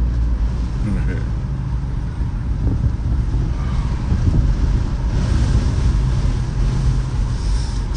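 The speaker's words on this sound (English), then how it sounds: "It's a nice breezy day" Wind gusts steadily across an outdoor microphone on a breezy day in Northeast Wilmington, producing a continuous low rumbling roar that swells slightly midway and never drops out.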